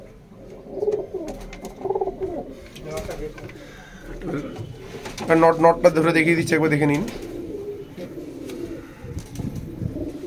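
Rampuri pigeons coo in a loft, with soft repeated cooing that swells to a louder burst midway, heard under someone talking close by.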